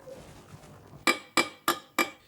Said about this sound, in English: With the finishing hammer, she must continue to strike with entirely even, consistent force.